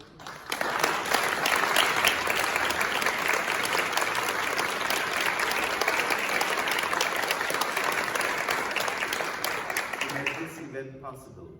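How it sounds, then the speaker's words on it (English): Applause from a performance audience, a dense, sustained crowd clapping that swells quickly and holds for about ten seconds before dying away, with a brief voice at the close. "So a great applause to everybody"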